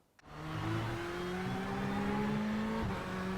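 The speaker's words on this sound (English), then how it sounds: "I am driving a Ferrari in iRacing" Ferrari 488 GTE race car engine in the iRacing sim, revving up from quiet into a sustained, rising engine whine, with a brief dip like a gear change near the end; no speech.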